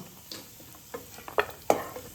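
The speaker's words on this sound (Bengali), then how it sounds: "কিশমিশটা খুব বেশি ভাজবো না, এই যে হালকা করে ভাজা হয়ে গেছে" Raisins frying lightly in ghee in a pan for a vermicelli dessert, giving a few soft, brief sizzling crackles and stirring scrapes against quiet background.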